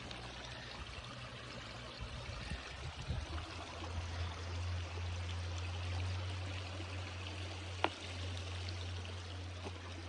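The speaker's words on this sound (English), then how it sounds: "That water's running from that culvert across the street." Water runs and gurgles continuously from a roadside culvert at moderate distance, steady and rushing, with a faint low hum and one brief sharp click.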